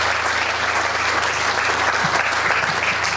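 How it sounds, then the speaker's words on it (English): Audience applause at a South Australian Music Hall of Fame performance, a steady dense wash of clapping held at even loudness throughout, with a low hum beneath. "can we give him a round of applause?"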